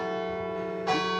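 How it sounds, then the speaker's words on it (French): Church bells ring at noon in Saint-Lô, sustained ringing tones from a previous stroke followed by a fresh loud strike near the end, heard clearly without talk. "je confirme, les cloches marchent très bien"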